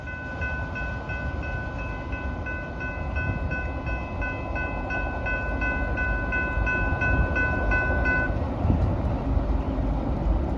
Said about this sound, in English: Symbol on that train is the Norfolk Southern 121.